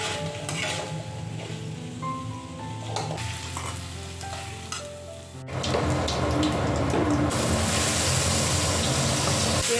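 Potatoes drop into very hot oil in a Bengali home kitchen. A quieter sizzle with utensil clinks builds into a loud, dense, rain-like frying roar that holds steady to the end. No voices are heard.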